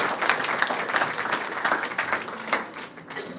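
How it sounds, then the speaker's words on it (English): An audience applauds a guest at a live school debate event, dense clapping held steady for several seconds before easing slightly, with no talking over it. "Another round of applause for one of our guests who has joined us today, Mr. Deepak Joshi, IT consultant."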